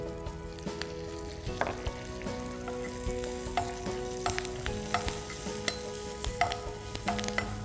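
Urad dal and curry leaves fry in hot oil, giving a continuous close crackle with scattered sharp pops and spatters over a faint background hum, with no voices.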